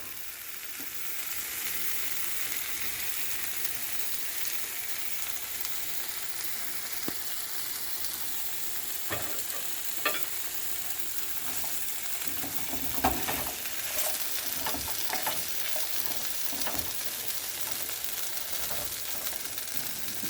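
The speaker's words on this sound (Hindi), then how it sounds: "और मैं पोटैटो भी फ्राई करूँगी।" Potatoes frying on a tawa give a steady broadband sizzle throughout, with occasional sharper crackles and stirring clinks near the middle, heard close and alone with no talking.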